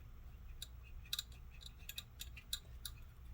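Razor blade cutting during an ASUS GL504G laptop fan repair, faint scattered scraping clicks and ticks coming a few at a time, quiet and close with no talk.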